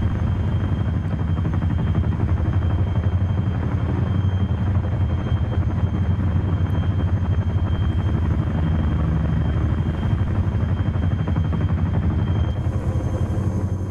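A Chinook helicopter in a military video game gives off a loud, steady rotor and engine roar that stays close and constant the whole time, with no talk.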